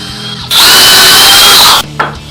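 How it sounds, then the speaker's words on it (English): Power drill driving screws into wooden boards while helping work near an old Mustang, one loud sustained whir of about 1.3 seconds that stops abruptly, followed by a brief clatter. "So the reason how come I'm screwing these instead of nailing them"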